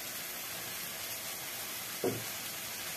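Pieces of liver sizzle in spice paste and oil in a pan: a steady, close hiss of frying runs throughout, with one brief, dull knock of a utensil about two-thirds of the way in.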